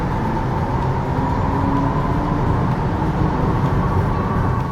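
Artificial active sound design from a Hyundai Kona Electric, played at its strongest setting, comes through as a steady synthetic hum with a sustained tonal drone, fairly loud and unbroken throughout, with no talking.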